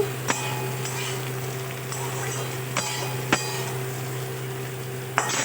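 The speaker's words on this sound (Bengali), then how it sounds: "এবার ঝিঙেটা একটু নেড়ে নেব ঝিঙেটা একটু কষিয়ে নিলাম" Steady sizzle of ridge gourd stir-frying in a hot pan, with a few sharp clinks of a spatula against the pan and a constant low hum underneath.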